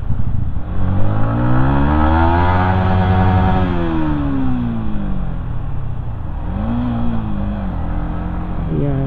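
Yamaha MT-15 motorcycle engine revving loudly and steadily, pitch rising and falling as gears shift up and down while filtering through city traffic in Dehradun, with a brief dip and re-rev near the end.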